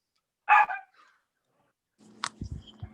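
A single short bark from a dog, fairly close and sharp, followed after a pause by low rumbling and scattered knocks in the background.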